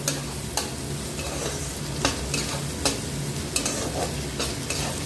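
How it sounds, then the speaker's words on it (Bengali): Chicken coated in garlic and ginger paste sizzles in a pan over a medium flame while a spoon scrapes and stirs it, with distinct scraping strokes roughly every second over a constant close fry. "একটু আদা বাটা দিয়ে এটাকে একটু নাড়াচাড়া করে নেব"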